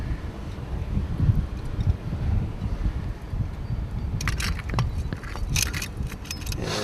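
Gusty wind blows outdoors at a camp stove setup, a rough, low buffeting rumble across the microphone throughout, with a few faint clinks near the end. No speech.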